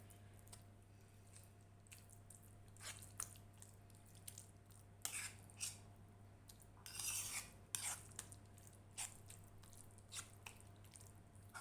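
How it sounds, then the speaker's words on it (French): A utensil stirs leek tart filling with fromage blanc in a bowl, giving soft, faint scraping clicks and wet squishes at an irregular pace against a low steady hum. "Donc, je mélange bien."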